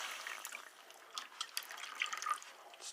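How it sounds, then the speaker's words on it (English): Water dripping and trickling from a leaking hose at a washer valve connection in a house, a faint, irregular patter of drops and splashes close by, with no talking. "That leak is from the hose."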